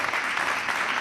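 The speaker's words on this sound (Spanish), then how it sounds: "Un aplauso para ella." Audience applause at a live monologue during a raffle event, a brief, continuous burst of many people clapping, dense and steady throughout.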